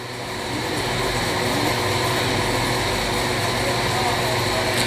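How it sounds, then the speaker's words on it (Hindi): The Pakistan Express, led by a GE40 diesel locomotive pulling about 19 coaches, arrives at Bahawalpur railway station in the evening, producing a loud, steady engine drone and rumble that swells slightly at the start and then holds. "बहावलपुर रेलवे स्टेशन पर पाकिस्तान एक्सप्रेस का अराइवल हो रहा था, जिसको GE40 लीड कर रहा था।"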